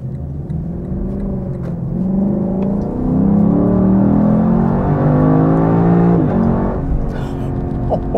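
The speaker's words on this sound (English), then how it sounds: "the more you rev it, the faster you go, the more it gets into it, the more it just wants to make more noise for you" A 2022 Lexus LC500 engine revs up in a long, loud, close sweep, its pitch climbing and easing off before rising again, with no one talking over it.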